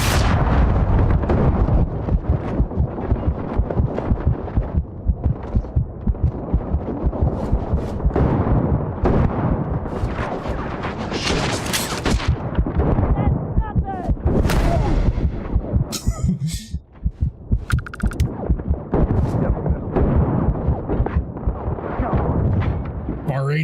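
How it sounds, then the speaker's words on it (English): Dense, heavy shotgun blasts and explosions boom almost nonstop in a sci-fi space game firefight, loud and close, with brief lulls and a voice talking over the fighting. "Shotgun fight."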